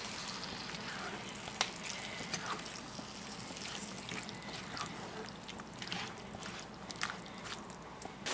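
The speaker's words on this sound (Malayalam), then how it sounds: "ഇതിപ്പോൾ നന്നായി ബോയിലായി വന്നിട്ടുണ്ട്, നന്നായി തിളച്ച് വന്നിട്ടുണ്ട്" Lemon pickle bubbling in spiced oil in a pan, a quiet, steady sizzle with soft popping and crackling throughout, no voices.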